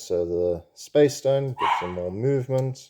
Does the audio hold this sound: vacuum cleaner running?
no